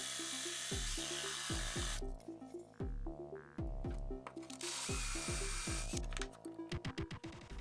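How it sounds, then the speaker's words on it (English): A power drill bores out the centre of a wooden pinball flipper actuator in repeated bursts, its pitch climbing as the motor spins up and dropping as it bites into the wood, close and loud with short pauses between passes. "then a drill bit to remove most of the center"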